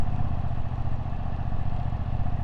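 A 2025 Ducati Streetfighter V2 S motorcycle engine runs low and steady at low road speed with a smooth, even thrum and light mechanical clatter, close and continuous.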